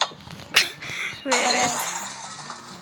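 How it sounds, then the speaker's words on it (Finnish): A glass window shatters with a bright burst of crashing, tinkling shards followed by lingering ringing fragments, close and loud, with a sharp earlier knock before it and people talking around it. "Ikkuna meni rikki."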